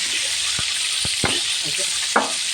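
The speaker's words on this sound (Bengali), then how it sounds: "দেখেন আপনারা মাছটা আমার ভাজা হচ্ছে" Rohu fish frying in hot oil in a frying pan, a steady loud sizzle throughout with a few sharp clinks and pops of the spatula over the constant hiss.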